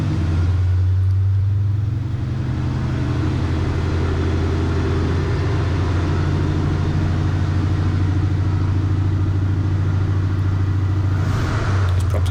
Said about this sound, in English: pushing the power up to 1600 RPM for the prop cycle